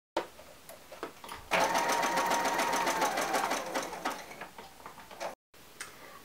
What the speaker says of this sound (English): place the fabric under the presser foot, and then you just want to make sure you keep the binding flat